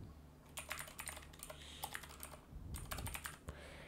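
Typing on a computer keyboard while filling in a name in email account setup, a steady run of close, quiet key clicks in irregular bursts with short pauses.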